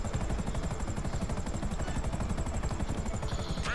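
Fast, steady rotor thumping of a helicopter in GTA 5 Online fills the whole stretch, loud and close, with a brief whine near the end and no talk.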